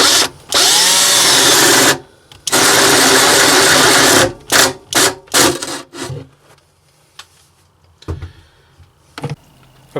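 A power drill bores through a plastic holding tank for a DIY travel trailer, with two long loud bursts of whining drilling followed by several short stuttering pulses and scattered knocks and handling sounds.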